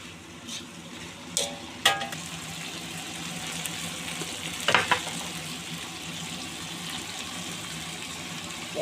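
Mussels stir-frying in a pan with asparagus, carrot and onion give a steady sizzle, broken by a few sharp utensil clinks against the pan.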